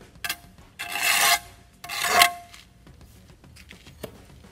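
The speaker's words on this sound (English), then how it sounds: "I'm going to scrape away this excess mortar" A trowel scrapes excess mortar off a freshly laid brick wall, producing two distinct harsh rasping strokes followed by a few lighter scrapes and taps, close and fairly quiet.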